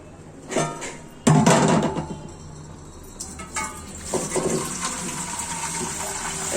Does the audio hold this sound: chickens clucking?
no